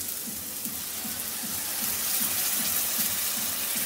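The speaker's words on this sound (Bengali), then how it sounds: "সামান্য একটু জল দিচ্ছি।" A little water splashes into frying poppy-seed masala for Bengali egg posto, a continuous hissing wash with rhythmic soft pulses, close and fairly loud, no voices.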